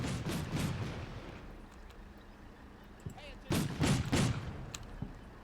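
A video game firefight carries distant gunfire from an enemy sniper, with muffled rolling shots and a heavier burst of cracks near the end, partly under a voice.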